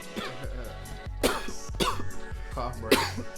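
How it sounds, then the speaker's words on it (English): A few harsh coughs and throat-clearing bursts from a podcast host break out in quick succession, close and fairly loud, separated by short quiet gaps. "Cough break."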